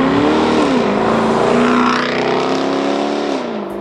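A 550-horsepower Jaguar engine roars loudly in a wood, its revs climbing and dipping in a continuous, raspy howl up close, with no voices over it.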